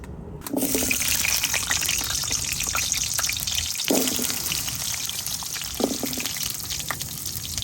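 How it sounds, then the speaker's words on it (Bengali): Oil poured into a kadai for frying potatoes, a continuous gurgling pour that turns into sizzling, punctuated by a few brief clatters. "প্রথমে আমি কড়াইতে তেল দিয়ে দিব তেল দিয়ে আমি আলুগুলা বাইজা নিব"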